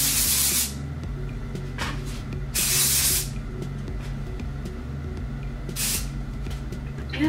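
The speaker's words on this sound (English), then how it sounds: "spray this in kind of as like a hairspray sort of thing" Three bursts of aerosol hair texture spray hiss, each about half a second long, close by, separated by quiet pauses over a faint background hum.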